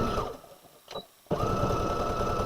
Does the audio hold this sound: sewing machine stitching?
yes